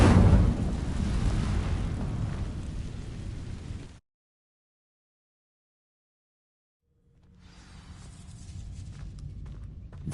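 Incendio fire spell igniting dry vines in the Hogwarts Legacy video game: a loud rumbling whoosh of flame that cuts to silence, then a second fiery swell builds and holds steady.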